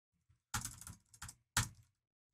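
Keys on a computer keyboard clatter in a few quick, close bursts of clicks separated by short pauses, quiet overall in an otherwise silent room.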